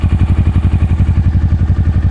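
A used motorcycle engine settling back to a steady idle, a close, loud, even low-pitched chugging pulse with a regular beat and no stumble or hesitation.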